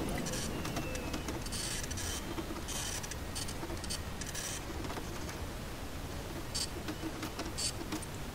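A flyer printer in the Freddy Fazbear's Pizzeria Simulator video game runs with a busy, rhythmic mechanical clatter of repeated ticks and whirring bursts, fairly close and steady over a noisy background.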